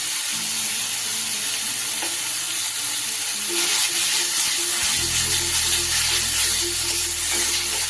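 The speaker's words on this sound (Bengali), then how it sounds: "দিয়ে দেবো এতে আমি 1 চামচ আদা রসুন আর কাঁচা লঙ্কা বাটা" Ginger, garlic and green chili paste fries with spices in oil for a Bengali doi katla, a continuous sizzle with stirring scrapes that grows louder after a few seconds.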